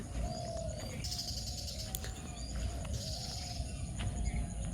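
Birds call and coo around a foggy village on a misty morning, with dove-like coos and scattered chirps over a steady low rumble of background ambience, moderately distant and continuous throughout.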